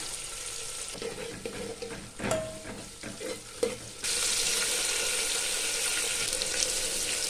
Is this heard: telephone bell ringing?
no